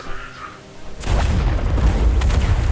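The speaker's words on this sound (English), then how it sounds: "Big explosion." A big explosion goes off in World of Warcraft, a sudden loud booming blast after a quieter lead-in, followed by a long rolling rumble with crackling debris.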